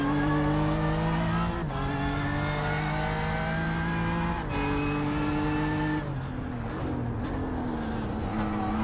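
Sports-car engine from the iRacing sim at Long Beach, droning loud and steady with harmonic whine, dipping briefly on lifts and sliding into turn 5 with shifting pitch, no talk.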